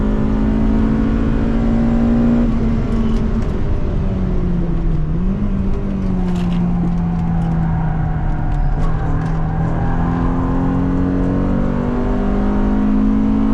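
A BMW E30 M3 racing around the Istanbul Park circuit, its engine droning loud and close, with the pitch rising and falling through gear changes and throttle lifts, continuous throughout.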